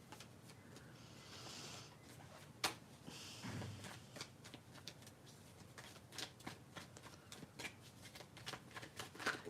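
Tarot cards are shuffled quietly and repeatedly nearby, a soft riffling patter of quick flicks and taps.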